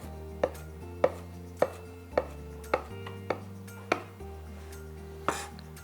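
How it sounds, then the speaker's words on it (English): Knife chopping a pile of garlic on a cutting board: about nine crisp, evenly spaced thuds, close and clear, with a faint low hum behind and no talking. "Turn the pile over, give it another chop."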